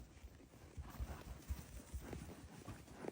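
A stallion moving at a walk, its hooves clip-clopping in a loose, uneven rhythm of soft, fairly quiet thuds on the ground nearby.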